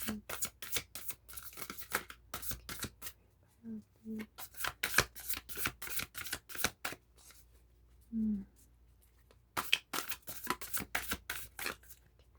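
Tarot cards are shuffled close up in quick riffling bursts of sharp flutters, followed by quieter pauses as cards are drawn, with brief soft voice sounds in between.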